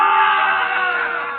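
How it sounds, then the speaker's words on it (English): A courtroom crowd jeers in an old CBS radio drama: a dense, loud wash of many voices shouting at once, sustained and steady for just over a second. "The crowd encouraged to jeer at the man of truth."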